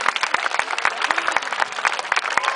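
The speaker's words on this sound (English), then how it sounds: "a big round of applause for Kaylee." Audience applause at a Whipsnade animal training demonstration, a brisk, fairly loud patter of many hands clapping continuously through the whole short stretch.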